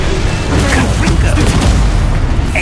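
A Confringo blasting spell explodes in the Hogwarts Legacy video game, a dense, loud booming burst sitting within a continuous wash of game noise and mechanical clatter, with a voice calling out alongside.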